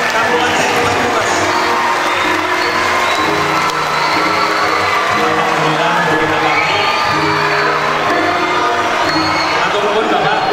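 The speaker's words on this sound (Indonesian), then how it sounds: "tepuk tangan untuk Kepala Dinas Kabupaten Banyumas" Audience applause and cheering for the head of the Banyumas regency education office at a school learning-community launch event, a steady dense crowd noise with whoops and shouts sustained throughout, voices mixed in.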